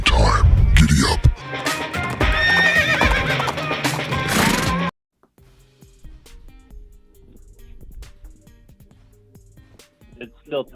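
A loud horse whinny with clip-clop hoofbeats fills the first five seconds as a sound effect, then cuts off sharply to quiet, sparse background noise with faint talk and a short burst near the end.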